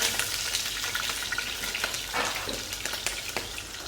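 Panla fish and catfish fry in hot oil in a home kitchen, giving a steady, close, loud sizzle with scattered crackles and pops and no voices.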